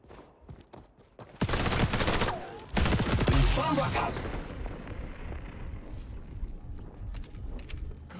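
Bursts of rapid gunfire and explosions from XDefiant on PS5, loud and dense, with a voice speaking Portuguese over the action.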